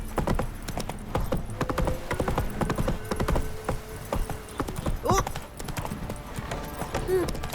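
Hooves of Roach, Geralt's horse in The Witcher 3, clip-clop at a steady gallop up close, with a brief whinny and game music underneath.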